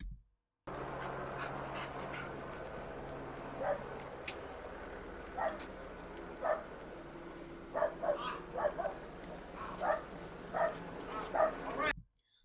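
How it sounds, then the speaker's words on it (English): A police K-9 dog barks intermittently in short bursts while searching a yard for a hidden suspect, heard at moderate distance over steady background noise. "the dog's running around barking"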